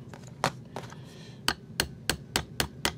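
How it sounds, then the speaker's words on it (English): Hammer tapping rods into a Pierre Roy oboe gouger during assembly, about eight sharp, close metallic taps, irregular at first and then in a quicker steady rhythm, over a faint background hiss. "You may have to use a hammer to get it in there."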